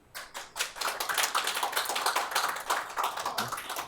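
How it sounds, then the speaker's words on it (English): Dense, continuous clapping from a tech meetup audience, bright and crackly, swelling quickly and holding steady for a few seconds before easing slightly. "Some applause for that"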